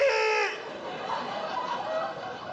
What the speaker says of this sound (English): Damn, there's a chicken in here.